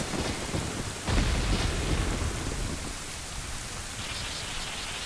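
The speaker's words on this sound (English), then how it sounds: "Thunder's getting pretty bad" Thunderstorm ambience from the Ocarina of Time video game: steady loud rain hiss with a deep rumbling thunder roll swelling after the first second, then easing back into continuous downpour.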